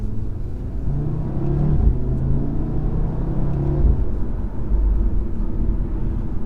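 A car engine revs with a deep, loud rumble, pitch rising and falling in a couple of sustained pulls, heard from inside or close by.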